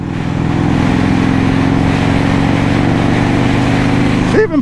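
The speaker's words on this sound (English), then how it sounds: "It even pulls good in 5th." Steady, loud engine drone from a 1984 Harley Davidson FLT Tour Glide pulling in fifth gear, a continuous low rumble with a harmonic hum that holds throughout and dips briefly at the end.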